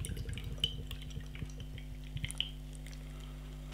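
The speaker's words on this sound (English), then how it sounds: "Nice levels of carbonation as we pour the beer." A straw-coloured New World pale ale poured from a can into a glass, with soft liquid glugging, fizzing carbonation and scattered little drips and splashes, close and fairly quiet.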